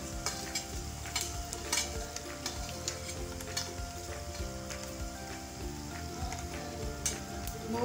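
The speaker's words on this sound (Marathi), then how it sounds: "मोहरी आणि जिरे आपल्याला चांगले तळतळू द्यायचे. फोडणी खमंग झाली पाहिजे." Cumin and mustard seeds crackle in hot oil for a tempering, a close, steady sizzle dotted with quick sharp pops and spits, fairly quiet and with no talk over it.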